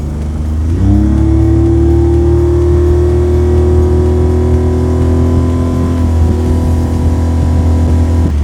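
A Pan's Marine N450 boat with a Mercury 30HP outboard cruises at minimum speed, a loud steady engine drone close by whose pitch rises and then holds level with slight shifts.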